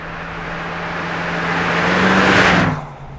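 A 1966 Ford Mustang GT convertible with a 289 V8 growls as it builds revs, swelling steadily louder to a peak before dropping off as it passes; no talking.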